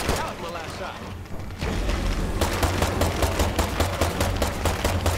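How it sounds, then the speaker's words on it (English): Rapid bursts of gunfire in the zombie survival game State of Decay 2, loud sharp cracks fired in quick repeated volleys after a brief lull, with low thumps beneath. "Let's dump some ammo into it"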